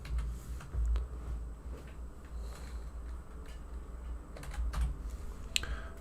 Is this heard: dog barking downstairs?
no